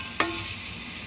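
Onion sautéing in a pan for lechon paksiw, a steady close sizzle with a single sharp clank of a utensil near the start.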